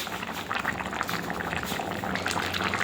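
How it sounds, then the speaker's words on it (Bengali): Chicken curry gravy bubbles at a steady boil, a dense close burble of popping bubbles that continues without pause. "ঝোলটা এখন টক করে ফুটছে"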